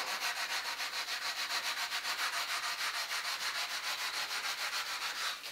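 Excess material scraped off a clay mold for a Bronze Age fry pan with a back-and-forth sawing motion, a steady rhythmic rasping that pulses several times a second, close and continuous with no talk.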